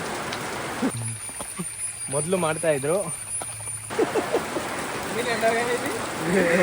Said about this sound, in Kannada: ಮಳೆ ಮತ್ತೆ ಫುಲ್ಲು ಜೋರ ಆಯಿತು